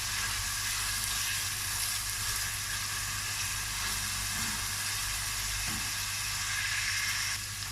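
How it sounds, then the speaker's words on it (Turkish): Sliced carrots sauté in hot oil in a pan, a steady, close sizzle with occasional stirring scrapes, no talking. "Havuçlarımı da şöyle bir iki dakika soteleyeceğiz."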